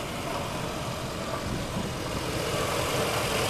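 A 1990 Cadillac Brougham with its 350 engine idles in a steady, even drone that stays at a constant level throughout, with no voices over it.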